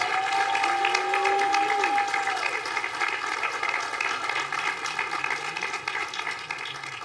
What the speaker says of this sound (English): Let's give our faculty and staff a huge round of applause.